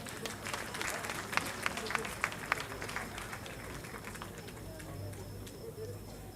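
Applause from an awards-gala audience honouring a nominee, a soft, distant patter of many hands that rises briefly with a few sharper claps, then thins into room murmur.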